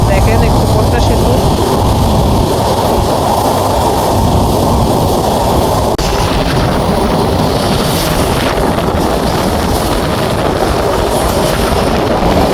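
The Madhumati Express crosses the Padma Bridge with a loud, constant roar of train wheels and carriage rumble, heard from inside the train with heavy wind noise and no clear pauses.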